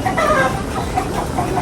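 A hen clucks and cackles repeatedly on a Filipino backyard farm, a steady run of close, moderately loud calls with no talk over them.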